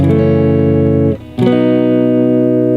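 Two sustained electric guitar chords with a brief break between them as the player shifts from one chord to the next.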